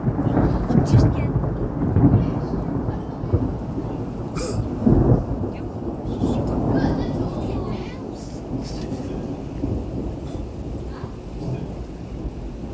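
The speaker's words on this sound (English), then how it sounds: "we've got another bout of thunderstorms" A nighttime thunderstorm in Warwickshire in the Midlands brings torrential rain hissing steadily throughout, with deep rolling thunder rumbling loudly in the first half before easing.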